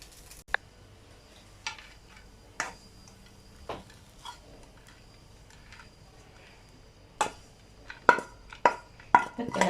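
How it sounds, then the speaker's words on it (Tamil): Crumbled string hoppers (idiyappam) being stirred into masala in a pan, heard as sparse metallic scrapes and knocks of a utensil against the pan that grow quicker and louder toward the end. "நம்ம உதுத்து வச்ச இடியாப்பத்தோட இந்த மசாலாவில் போட்டு நம்ம கிண்டிக்க வேண்டியதான்"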